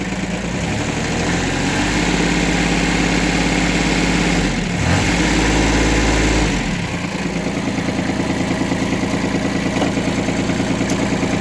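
The glow-plug engine of a Shibaura SP1540 mini tractor runs at a steady, loud idle close by, a continuous low chugging hum with a brief dip partway through and no voices.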